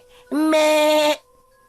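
A goat gives one loud, sustained bleat lasting nearly a second, harmonic and nasal, sounding close and clear against a quiet background.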